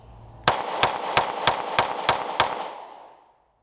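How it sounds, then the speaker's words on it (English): Seven evenly spaced pistol shots from a Sig Sauer P365 9mm at a shooting range, each sharp crack followed by a short echo, fired in a steady rapid cadence with no talking. "now I'm going to try and run these next 7 with a good cadence and see if I can hold this level"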